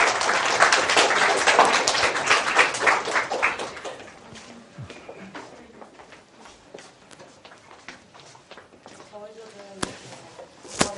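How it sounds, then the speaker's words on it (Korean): A workshop audience claps for a presenting group in a design class, loud applause for the first four seconds that then fades to scattered taps, footsteps and room noise, with a voice speaking near the end. "박수 한번 쳐주세요."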